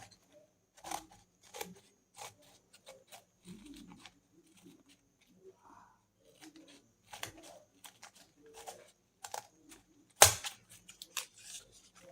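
Scissors snip through a brown paper bag being cut around a template, with sharp, irregular cuts and rustling paper close by, separated by quiet pauses, and one louder clack near the end.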